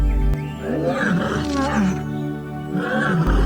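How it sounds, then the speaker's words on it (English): A lion roaring in the African wild, a deep, drawn-out roar rising and falling in two long swells, loud and close under a low rumble. "the lion remains the ultimate symbol of African power. Its roar can be heard up to 8 kilometers away"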